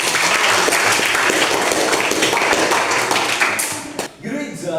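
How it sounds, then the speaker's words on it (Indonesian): Students in a Catholic religious education class for eighth graders clap together, a dense, lively burst of hand claps that stops abruptly near the end as a voice starts to speak. "Oke, tepuk tangan untuk kalian."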